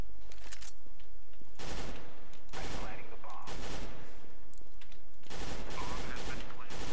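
Bursts of Galil rifle fire in a Counter-Strike match, several loud automatic volleys separated by short pauses, with a voice talking in between.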